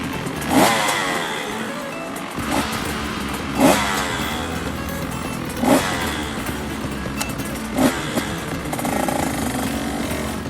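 Motocross motorcycles at a race start roar and rev together in a loud, continuous drone, with periodic surges of throttle rising above the din.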